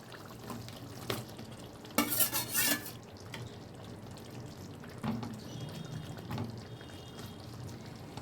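Fried prawns stirred into a thick, simmering gravy, soft scraping strokes and a brief louder clatter against the pan over a faint bubbling sizzle.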